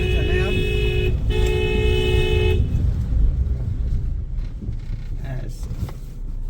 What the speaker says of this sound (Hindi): यहाँ से हॉर्न मारते हुए चले आप